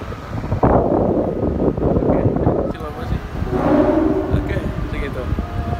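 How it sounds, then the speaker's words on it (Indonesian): Strong wind roars and buffets across the microphone on a ferry crossing toward Lampung, loud gusty rushing that swells and eases throughout, with a faint mechanical rumble beneath. "Ini lagi di anginnya kencang banget."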